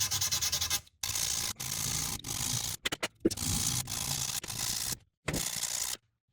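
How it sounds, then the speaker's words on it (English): Steady rasping scrapes of sandpaper rubbing back and forth in long strokes on the frets of a Fender Telecaster guitar, close up, with short pauses between passes. "They're pretty even, so they won't take as much sanding."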